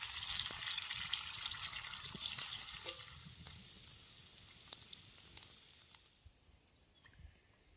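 Water goes into sizzling murrel (maral) fish curry masala: a soft, faint hiss and bubbling that gradually quiets, with a few light clinks and taps toward the end.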